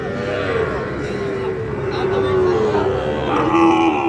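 A cow at a cattle market gives a long, low drawn-out moo, close and fairly loud, while people talk nearby.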